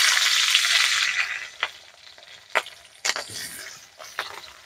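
Green chillies hit a frying pan for a Bengali brinjal, potato, bean and puti fish chorchori, a loud burst of sizzling that fades, followed by several sharp scraping stirs of the spatula against the pan.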